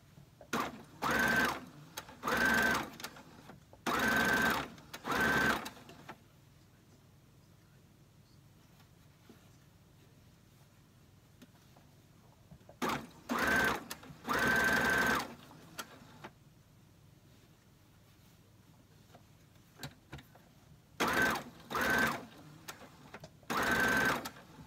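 A sewing machine stitches stretchy fabric for a dress in several short bursts of rapid whirring, separated by quiet pauses, close and fairly soft.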